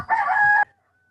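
A rooster crows once, loud and close, a short strained call that cuts off abruptly and leaves near silence.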